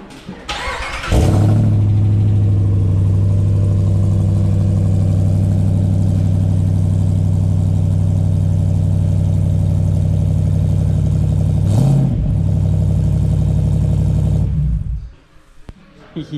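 A Jeep Rubicon with a swapped-in Hemi V8 cranks and catches, then settles into a loud, steady, deep idle that holds for more than ten seconds, with a brief blip of revs partway through before the engine cuts off.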